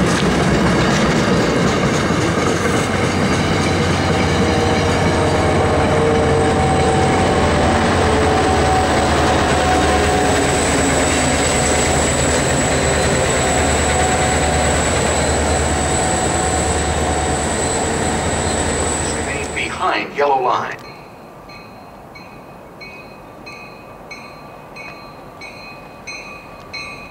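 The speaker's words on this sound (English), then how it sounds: "Train approaching." A train roars loudly through Route 128 station, a dense and steady rumble with rail clatter and a high whine that runs for about twenty seconds, then cuts off sharply, leaving quieter platform ambience and faint electronic tones.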